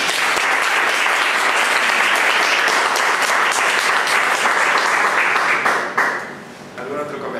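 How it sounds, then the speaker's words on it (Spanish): Applause from the audience at a clinical case presentation, thanking the presenting doctor: dense, steady clapping across the room that holds loud and even, then thins and fades over the final second or so. "quiero agradecerte y pido un aplauso"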